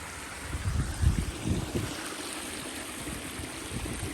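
Rainwater runs across open ground after a heavy downpour, a steady broadband wash like a stream with a few louder low surges early on, continuous and fairly close, no voices.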